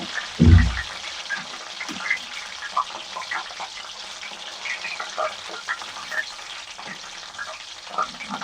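Mushroom kebabs frying in oil, a constant close sizzle and bubbling with a soft thump near the start as pieces are turned, scattered small pops throughout and no voices.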